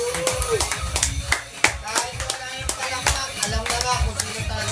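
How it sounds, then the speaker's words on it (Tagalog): A crowd claps for a contestant at a head-to-head showdown. The claps are loose and uneven, with individual hand claps standing out near the listener, and a voice talks over them. "Forrester, palakasan ng palakpak."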